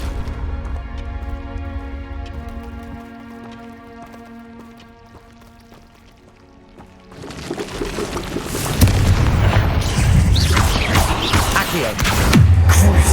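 Explosive blasts from Confringo fire spells in Hogwarts Legacy: after a quieter stretch of sustained musical tones, heavy booming impacts and rumbling debris build up and grow loud in the second half.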